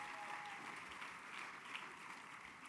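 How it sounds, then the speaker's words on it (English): Dinner audience applause for the dinner chairs at a Los Angeles gala, quiet and steady throughout the short stretch. "a round of applause to our fabulous dinner chairs"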